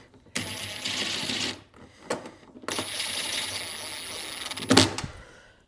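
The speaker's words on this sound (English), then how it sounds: "Let's get it bolted in." Bolts being driven in to secure a headlight assembly on a 2011-2014 Hyundai Sonata, two longer bursts of tool whirring with short clicks and a sharp metallic clatter near the end, fairly quiet and close.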